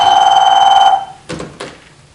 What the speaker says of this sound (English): it's time for you to observe your first phone call